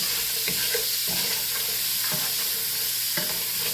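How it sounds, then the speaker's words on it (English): Peppers and onions fry in an oiled pan for pork fried rice, a steady close sizzle broken by repeated scraping stirs of a utensil against the pan, with no talking. "there's enough oil. Just add me a little of them peppers and onions up in there. And I'm just gonna work that."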